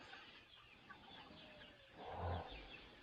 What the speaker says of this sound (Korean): 오늘 날짜로 70일 된 청개 병아리들입니다